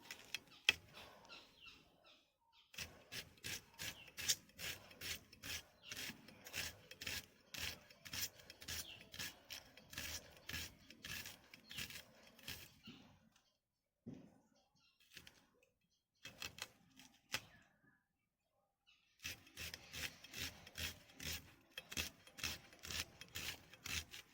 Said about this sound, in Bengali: এবার আমি একটা মাঝারি সাইজের পেঁয়াজ কেটে বেটে নেব